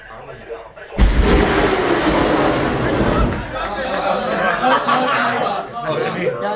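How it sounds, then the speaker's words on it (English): An outgoing rocket fired during fighting in Falluja launches with a sudden loud blast, then a roaring rush that lasts several seconds, while people nearby talk and chuckle. "That's an outgoing rocket."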